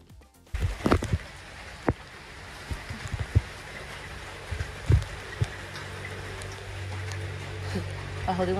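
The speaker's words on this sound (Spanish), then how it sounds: "Está lloviendo" Rain falls during a jeep tour on Mount Batur in Kintamani, a steady hiss broken by scattered close drop taps, with faint voices now and then.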